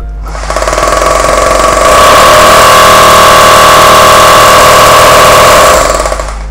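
A Bosch three-function 220V rotary hammer drill runs at full power. It gives a loud, steady buzzing whine with a rapid mechanical chatter as it spins up, holds for several seconds alone, and then winds down.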